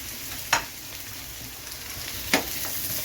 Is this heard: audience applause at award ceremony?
no